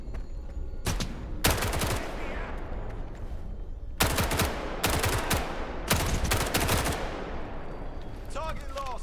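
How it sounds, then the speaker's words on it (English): Bursts of automatic gunfire in STALKER 2 on Veteran difficulty, several loud, close volleys separated by short pauses, with a voice speaking over the fighting. "Where am I getting shot from?"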